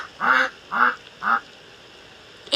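A cartoon goose in a Toca Boca video game honks three times in a row, each call short, nasal and evenly spaced, with a quiet pause at the end.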